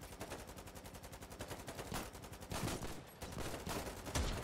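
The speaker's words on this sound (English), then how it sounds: "start shooting anti-tank rifles at them" Rapid, sharp anti-tank rifle shots crack out in the online war game Foxhole, mixed with dense machine-gun bursts and other gunfire in a continuous, loud battle barrage with no talking.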